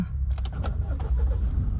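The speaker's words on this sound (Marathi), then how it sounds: "इथे मी सेल्फ मारतोय" A new car's self-starter cranks the engine with a low, pulsing mechanical churn and a few light clicks and rattles, heard close up for under two seconds.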